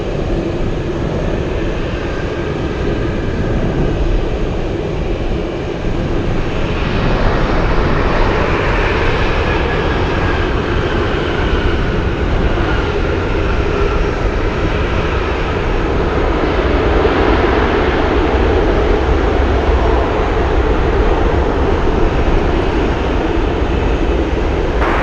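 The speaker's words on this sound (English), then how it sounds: "we have American 1355 flying in from Dallas," An American Airlines jet arriving at Anchorage from Dallas on runway 15 in gusty winds, a loud sustained engine roar that swells and passes over roughly twenty-five seconds, with wind buffeting the microphone.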